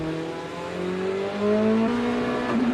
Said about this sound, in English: he slams the throttle and brings this V8 back to life